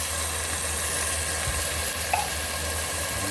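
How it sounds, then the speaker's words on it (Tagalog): Sardines sautéing in a pan for cabbage, a steady close sizzle of frying oil running throughout, with a couple of small clinks partway through and no talking. "Igisa na natin yung ating mahiwagang pangpalasang sardines"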